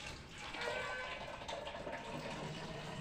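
Drinking water pours from a water filter in a continuous, soft, steady stream, close but quiet, with no one speaking.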